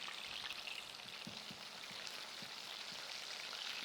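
Chapli kebabs fry in oil, giving a faint, steady crackling sizzle with scattered small pops, much like light rain.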